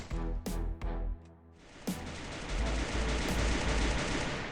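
Rapid bursts of SMG fire in the video game Free Fire, a few short volleys early, then a dense sustained stretch of gunfire, loud and close with no talk.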